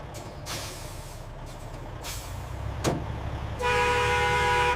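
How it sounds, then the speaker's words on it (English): A truck pulls out of a loading dock yard with a steady low engine rumble and a few short hisses, ending in a loud, sustained hiss of released air brakes. "Truck 3 leaving the yard,"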